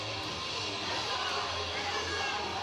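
A capacity crowd fills a wrestling arena with a steady, loud roar of many voices, shouting and cheering blended into one continuous wash of sound.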